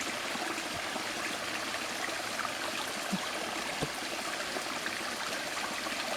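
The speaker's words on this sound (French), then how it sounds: "On a un petit peu comme l'énergie du ruisseau ici qui coule." A brook flows close by in a steady, unbroken rush of running water, with faint scattered trickles and small splashes across the whole stretch and no voices.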